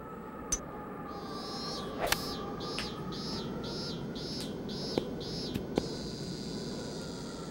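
Short repeated chirps in the Hot Shots Golf 3 video game, about eight even pulses in a row over a steady hiss of ambient noise, with a few faint clicks scattered between them.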